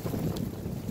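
Strong wind buffets an outdoor microphone, producing a steady, loud low rumble that continues through the whole moment with no voices.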